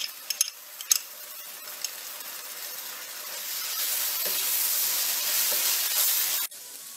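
Onions frying in a pan with garlic ginger paste added, a few sharp utensil knocks at the start, then a steady hissing sizzle that swells and continues before cutting off abruptly.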